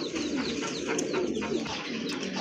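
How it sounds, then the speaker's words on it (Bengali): A female pigeon coos in a loud, busy loft, her low murmuring calls blending into a constant wash of other birds and ambient noise that never lets up. "আর ওই যে বাহিরে যেটা আছে এটা হচ্ছে আপনার মাদি কবুতর।"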